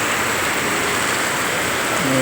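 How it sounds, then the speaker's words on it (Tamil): Rain falling steadily as a soft, continuous hiss that fills the whole stretch, even and unbroken, with a faint tonal hum entering near the end. "மறுபடியும் அடுத்த செகண்ட் மழை ஸ்டார்ட் ஆகிடுச்சு"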